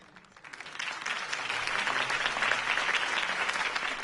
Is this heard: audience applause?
yes